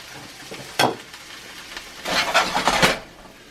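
Cooked ground turkey sizzles in a frying pan, a steady hiss rising into louder crackling bursts as it is stirred and tossed near the microphone.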